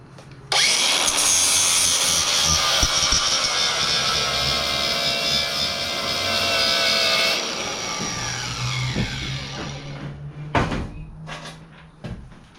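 A chainsaw chain from a Coleman CT200U-EX being sharpened with a grinder, giving a loud, steady, high-pitched grinding whine for several seconds that then drops and breaks into shorter bursts and clunks toward the end.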